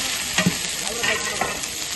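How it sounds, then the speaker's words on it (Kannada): Onions fry in a pan with a steady, close sizzle, while a utensil stirs and scrapes through them in a few soft strokes. "ಈರುಳ್ಳಿ ಕೆಂಪಾದ್ಮೇಲೆ ತೋರಿಸಿ."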